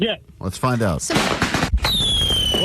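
A Big Eagle 2000 firework goes off after brief talk, with a sharp burst followed by a long high whistle and crackling hiss that carries on loudly to the end.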